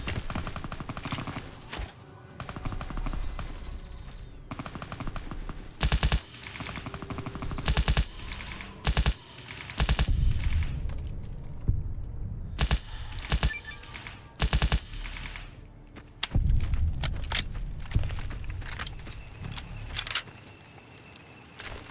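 Machine gun fire in Fallout New Vegas rattles in repeated loud bursts, mixed with single shots and brief pauses through a hectic firefight.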